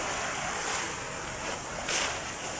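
Creek water rushes in a steady, even wash from nearby, with a breezy hiss and a brief swell near the end.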